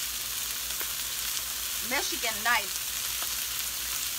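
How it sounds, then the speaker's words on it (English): Chicken wings searing in a hot pan while preparing tailgate food for football season: a steady, close sizzle runs throughout, with a few brief spoken words partway through. "I'm just putting the wings on, getting them seared, I guess you could say."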